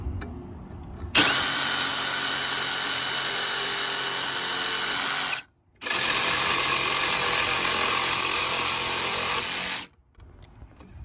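A reciprocating saw fitted with a Sedy metal-cutting blade cuts through nails, a loud, harsh, grinding roar in two sustained runs separated by a brief pause, with no talking.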